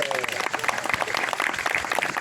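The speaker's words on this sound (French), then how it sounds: "On peut l'applaudir, s'il vous plaît." Audience at a street performance clapping for a volunteer, a brief dense burst of many hands under a lively crowd, with some voices mixed in.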